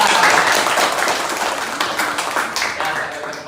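A classroom of students applauds a group, a loud, dense patter of many hands that continues steadily, with some voices mixed in.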